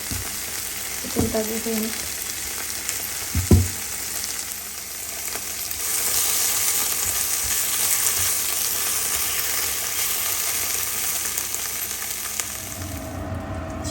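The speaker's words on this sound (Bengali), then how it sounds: "মশলার সাথে এটাও একটু ভাজা ভাজা হোক আর চিকেনটা এখানে হোক" Chicken frying in a pan with spices and yellow pepper, a steady close sizzle throughout with a couple of brief stirring knocks early on and a few quiet words spoken.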